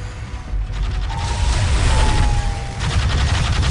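Sustained battlefield gunfire from the Space Marines in Warhammer 40000: Dawn of War – Soul Storm, a dense, continuous roar of overlapping shots and rumbling impacts that stays loud throughout.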